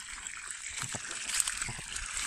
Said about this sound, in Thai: อ่าเสียงน้ำไหลแล้วครับ